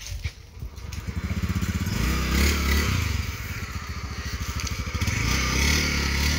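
A stolen motorcycle's engine chugs with a rapid, steady putter close by, revving up and pulling away with rising and falling throttle and a rattling mechanical edge.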